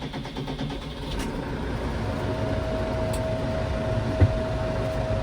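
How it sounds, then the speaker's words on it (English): An old PowerStar 120 tractor with a small engine runs at a steady idle close by, a continuous low diesel rumble with a faint whine and a brief knock near the end. "See if the old tiny engine, see if she starts."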